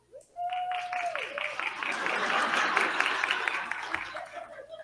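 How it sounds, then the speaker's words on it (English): An audience claps at a school board meeting during a student poster contest awards segment; the applause rises quickly, holds as a dense patter for several seconds and then tapers off. "We'll do applause."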